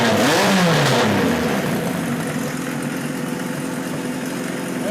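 An old motorcycle engine, freshly running after carburetor work, revs up in a loud swell near the start, then settles into a steady, rough idle that continues without talk.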